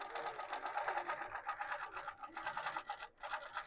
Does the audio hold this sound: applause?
no